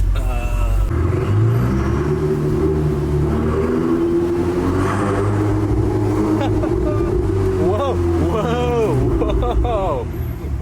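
A Ferrari fitted with aftermarket exhaust silencers revs loudly from close by, its engine note climbing and falling in a few sharp bursts, while people talk over it.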